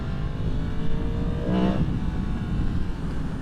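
A 2023 Yamaha MT-10 with a 998cc crossplane CP4 four-cylinder engine gives a steady, close engine drone that swells briefly in the middle, with no voices.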